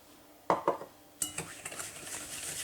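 A few light clinks of a spoon against a bowl, then quicker scraping and tapping as sugar is stirred into kefir, close by and fairly quiet.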